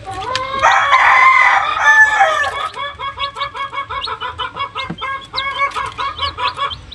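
A Paul Spark Gray gamefowl rooster crows loudly and close, one long harsh crow, followed by a run of rapid repeated clucks from chickens nearby.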